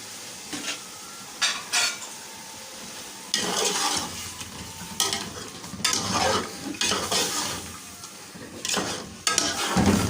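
Mutton sautéed with yogurt in a pan, loud bursts of stirring and scraping against the metal that come and go in irregular spells over a continuous frying sizzle, heard up close with no talking.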